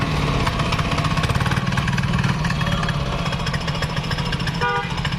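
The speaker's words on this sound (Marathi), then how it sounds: "सात एच पी चेन कल्टिवेटर कोळपणी यंत्र" A 7 hp chain cultivator's small engine runs steadily with a rapid chugging pulse while the machine is turned in place in a field, loud and close throughout.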